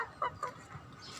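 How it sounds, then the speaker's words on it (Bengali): Farm chickens and tiger chickens feeding on a rooftop garden give a few short clucks and honk-like calls at moderate distance over quiet background hiss. "এদিকে হলো আমার ফার্মি মুরগি, টাইগার মুরগি, মুরগিগুলো খাবার দিয়েছি।"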